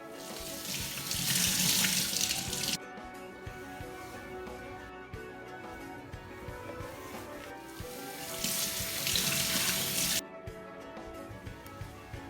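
Water gushes from a kitchen tap during cleanup while biryani cooks, in two loud bursts, one near the start and one later, with quieter running and clatter between them.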